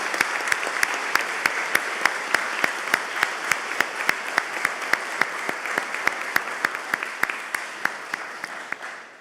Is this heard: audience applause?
yes